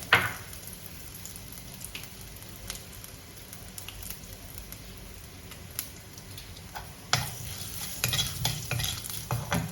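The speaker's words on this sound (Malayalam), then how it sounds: "ഉഴുന്നുപരിപ്പ് ഒന്ന് ലൈറ്റ് ബ്രൗൺ ആയാൽ കടുക് വറക്കുക" Urad dal and mustard seeds fry in oil for a tomato curry to go with idli. A faint, steady sizzle is dotted with scattered ticking pops, and the crackle grows busier and louder toward the end.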